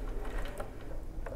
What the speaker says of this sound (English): Now I'm going to keep sewing to the end